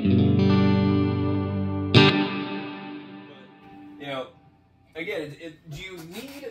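An electric guitar runs through a Flamma FS02 reverb pedal on its room setting into a Marshall amp, giving a strummed chord with a smooth decaying tail and a few notes before a voice begins talking.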